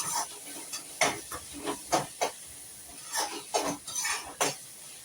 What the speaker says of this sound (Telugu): నేను మసాలా ముద్ద వేసుకుంటున్నాను ఈ ఉల్లిపాయల్లోని వేసుకొని ఆ మసాలా ముద్ద పచ్చివాసన పోయే వరకు వేపుకోవాలి మంచిగా ఫ్రై అవ్వాలి